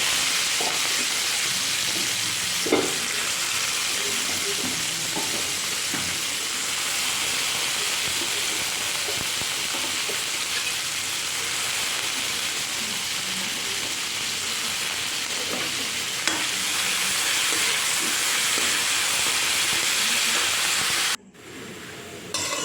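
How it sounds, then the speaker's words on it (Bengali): Vegetables fry and get stirred in a pan over a home stove, a dense continuous sizzle with occasional spatula knocks and scrapes, close and steady throughout, briefly cutting out near the end. "এই যে সবজিগুলো দিয়ে দিচ্ছি আগের আর জিনিসটা একটু ভালো করে ভেজে নিই"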